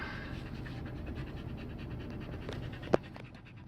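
A dog named Iris panting steadily up close, quick rhythmic breaths continuing through the moment with one sharp click-like knock near the end.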